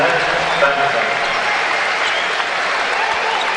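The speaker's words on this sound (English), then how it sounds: "Crowd acknowledging Tucky early in the game" A basketball crowd at a Western Kentucky game applauds steadily, a dense, loud wash of clapping and cheering from a packed arena that holds level throughout without pause.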